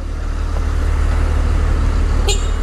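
A brief, sharp car horn honk near the end of the clip cuts over steady street traffic rumble on a weekend delivery run.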